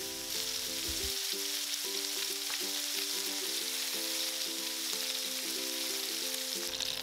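Chicken wings sizzle steadily in a frying pan, a continuous bright crackle with a faint tonal hum running underneath.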